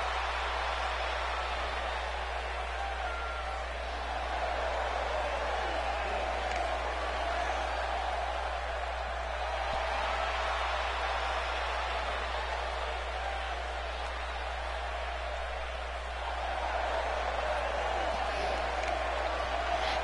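A sold-out arena crowd at a ninja obstacle competition makes a continuous roar of cheering and murmur that swells and eases in broad waves, heard alone without clear speech.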